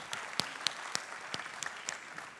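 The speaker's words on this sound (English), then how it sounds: "a round of applause for all the students again from my behalf" Students being applauded at a school golden jubilee celebration, a soft, distant patter of many hands clapping with sharper individual claps standing out, heard without any voices.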